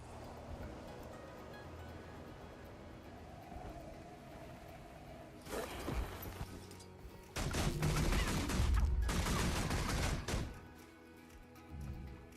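Pistol gunfire in a video game, sharp clusters of loud, close shots coming in a few dense bursts midway, with quieter game ambience before and after.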